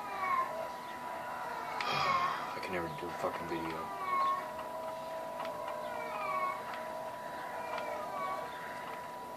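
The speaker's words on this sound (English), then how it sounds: "She's always interrupting my damn videos because of her stupid ass meowing." A female cat in heat meows repeatedly and insistently indoors, a series of drawn-out, wavering cries near the microphone, while someone talks over her with a steady hum in the background.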